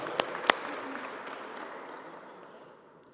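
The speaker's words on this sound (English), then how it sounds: "Big round of applause." Applause for tennis players at a serve clinic, a couple of sharp claps at the start and then a soft, scattered patter from a small group that fades away.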